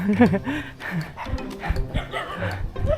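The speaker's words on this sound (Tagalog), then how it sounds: "Ang daming aso sa daan." Dogs bark and yip a few times at close to middle distance on a road in Misamis Occidental, Philippines, mixed with background chatter and movement.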